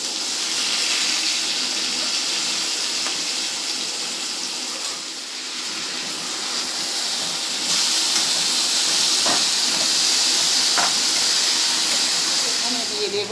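Onions and kasuri methi sizzle in hot oil for an egg poach curry, a continuous loud frying hiss that swells slightly partway through while someone talks over it.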